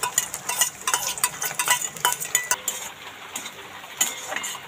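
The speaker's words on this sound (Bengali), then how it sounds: "এখানে দেখো পেঁয়াজটা আমি কড়ার মধ্যে দিয়ে দিয়েছি, ভাজা হচ্ছে।" Onion, garlic and chopped green chili fry in a wok while a metal spatula scrapes and clinks against the pan in quick, uneven strokes. Any sizzle stays soft underneath the stirring.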